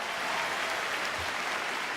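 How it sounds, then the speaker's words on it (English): A theatre audience at a music event in the Shrine Auditorium breaks into loud, dense applause and sustains it evenly for the whole stretch, with no voices on top. "big round of applause"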